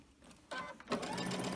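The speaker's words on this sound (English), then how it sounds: "I'm just going to sew all the way around it" Sewing machine stitching around the edge of a fabric mask, its motor whirring close and steady in two bursts after a short quiet start.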